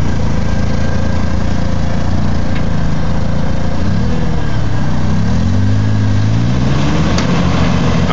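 A Jeep engine runs loud and steady at close range while it tows a stuck vehicle on off-road trails, with the revs rising and wavering toward the end.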